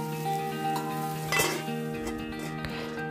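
Potato pieces and amaranth stalks with salt and turmeric are stirred in a pan, giving close metallic scrapes and clinks of a utensil against the pan over a faint sizzle.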